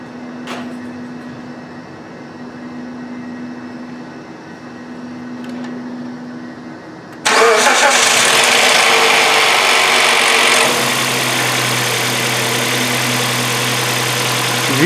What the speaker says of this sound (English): Now, the moment of truth, we are going to start the engine.